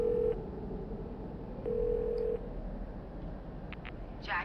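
Telephone keypad tones from a phone being dialed in the video game The Darkness: two steady beeps, one short and one longer, over a low game background hum, with a few faint clicks near the end.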